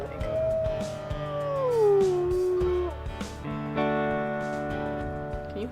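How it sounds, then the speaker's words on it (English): A wolf in a video game howls in one long, drawn-out call that slides downward in pitch. Further tonal cries follow over a steady game background, with no talk. "Izzy, what does your howl sound like"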